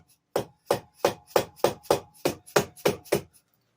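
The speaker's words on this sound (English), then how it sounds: "Let me see if I got a little dead blow hammer here." Nine evenly spaced, sharp knocks from a dead blow hammer tapping the cylinder head of a 150cc GY6 scooter engine, close and steady in rhythm, each a dull solid thud with a quick decay, no talking.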